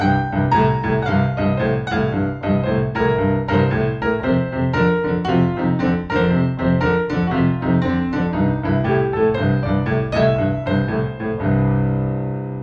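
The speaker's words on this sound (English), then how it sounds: "Crushed notes are the closest thing to bending a note that a piano can do" Piano melody played with quick grace notes, each crushed note sliding a semitone into the main note, in a flowing, steady phrase with no talking.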